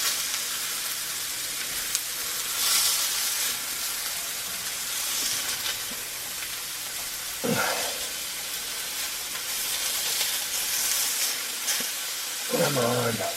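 Meat patties fry in a cast iron pan with a continuous close sizzle and hiss, punctuated by a few brief clanks and scrapes of a spatula as they are handled.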